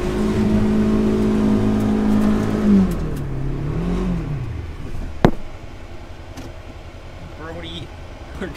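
A vehicle stuck on rough ground in a poorly maintained area, its engine droning hard and steady, then sagging and winding down, followed by a single sharp knock. Background voices are heard, but no words are clear.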